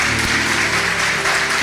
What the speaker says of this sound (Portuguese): salve de palmas para o ovelhinho